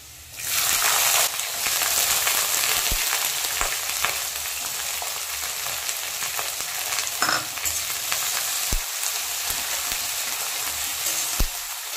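Finely chopped onion tossed into hot oil in a pan, giving a loud close sizzle that persists throughout, with occasional clinks of a spoon stirring against the pan.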